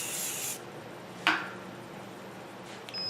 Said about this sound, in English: So I'm going to spray